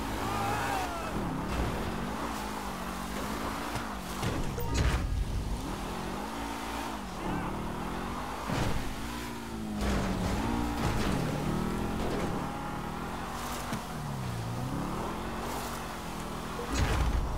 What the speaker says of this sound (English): The race car.